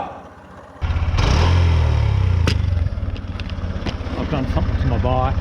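A Honda CB125F motorcycle engine runs loudly on a dirt trail with a steady, throbbing low drone that jumps in volume after a quieter start. The engine keeps chugging as someone speaks over it.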